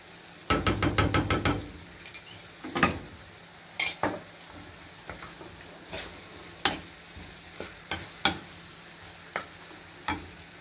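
Spoon scraping and clacking against a pan while fried potatoes are stirred with tomato sauce and spices: a quick burst of tapping strokes, then scattered single knocks at irregular intervals, close by with no talk.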